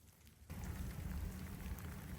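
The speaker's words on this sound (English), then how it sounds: "it's been raining a fair bit last night" Rain falls in the Western Australian bush near Bodallin, a faint patter that suddenly swells into a steady, close wash of drops and holds there.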